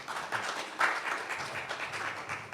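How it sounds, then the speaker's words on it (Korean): Applause from an audience at a conference on smart cities and sustainable development in Africa, welcoming a speaker to the stage; a steady, fairly quiet patter of many hands clapping throughout, with no voices over it. "박수로 맞이해 주시기 바랍니다."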